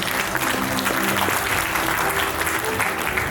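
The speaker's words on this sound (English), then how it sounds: "please give him a round of applause" Sustained applause from an audience at a high-level semiconductor event in Ho Chi Minh City, welcoming a GIZ Vietnam program officer to the stage; steady, dense clapping throughout with no breaks.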